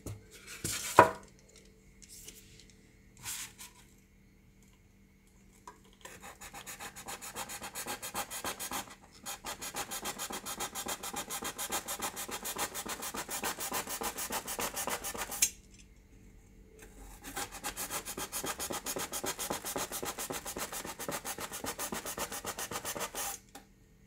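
Wood for a speaker cabinet is cut and sanded by hand, heard as a couple of sharp knocks followed by long stretches of rhythmic rasping strokes, close and steady, with a short pause between the two runs.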